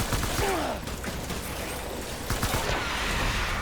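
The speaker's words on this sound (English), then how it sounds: "Let's go for the level 2 assault rifle." Level 2 assault rifle fire in Death Stranding, loud rapid bursts of gunfire mixed with mechanical clatter and creaks, dense and close throughout the short stretch, with no talk.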